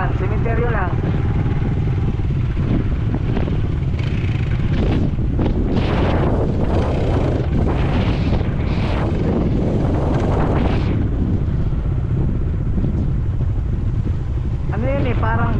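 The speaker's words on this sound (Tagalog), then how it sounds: "Malakas ang hangin. Di maririnig yung sabihin ko." Strong wind buffets an outdoor microphone in open ground beside a cemetery, a loud continuous roar and rumble throughout, with people talking over it.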